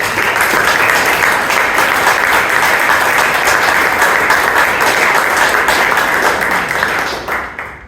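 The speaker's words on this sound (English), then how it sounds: "Let us give a big round of applause for Toastmaster of the day." A Toastmasters club meeting audience gives a big, loud round of applause, dense continuous clapping holding steady for several seconds before tapering off at the end.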